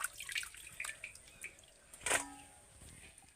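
Washed green pea pods being strained out of water, with scattered light drips and splashes and one louder sloshing burst near the middle, close and quiet with no talking.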